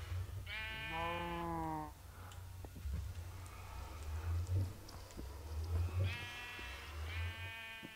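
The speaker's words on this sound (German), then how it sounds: "Wieso stehen hier Esel und Schafe und Kühe?" Sheep in the video game Minecraft bleat in two clear bursts, one early and one near the end, over a low rumbling game background with faint clicks.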